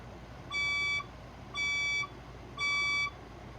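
A building fire alarm sounds three loud, even electronic beeps in a steady evenly spaced pattern, each about half a second long, over a quiet background.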